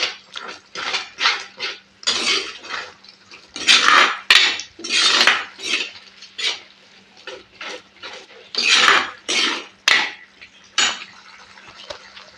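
A spoon stirs chili and coriander powder into onion curry in a pan, Kerala home-cooking style. Brisk scrapes and clinks of metal on the pan come in quick, uneven strokes, close by, with no talking.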